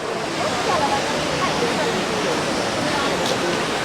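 Waterfall in Minoo Park, Japan, on a busy public holiday, a steady broadband rush of falling water filling the whole stretch at an even level, with faint crowd voices mixed beneath.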